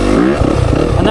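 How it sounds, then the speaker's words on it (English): A Yamaha YZ 450 dirt bike engine revs, a loud, buzzing motor drone running beneath someone talking. "let this engine spool up to give you that type of power"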